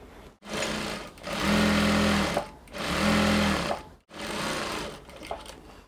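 A sewing machine stitches gown fabric together at the hemline in three steady bursts of rapid whirring, each a couple of seconds long with brief pauses between, close and clear with no talking.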